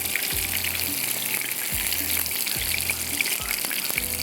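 Chicken methi kababs frying in hot oil give a steady, close sizzle and crackle, with repeated low thumps and clatter from the utensils as they are turned and lifted out.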